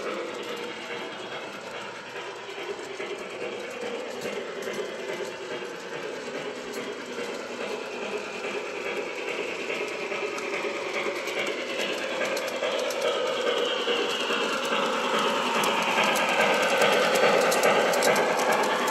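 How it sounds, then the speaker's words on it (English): A model Cab Forward locomotive runs through a double crossover on a model railway, giving a continuous mechanical whir and ratcheting gear clatter that slowly grows louder as the train approaches. "The train will just go straight through."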